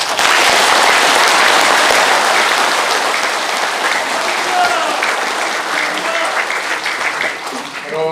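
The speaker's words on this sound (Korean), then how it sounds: "서로가 다 같이 한번 박수 크게 칩시다" A large crowd at a veterans' gathering claps loudly, a thick, sustained wave of applause that tapers slightly near the end as a voice begins to come through.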